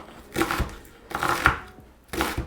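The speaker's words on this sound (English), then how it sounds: "And then we're going to do the slices that run the width of the onion." A knife cuts crosswise through an onion on a cutting board, three separate crisp crunching slices spaced about a second apart, close and fairly quiet, with no talking.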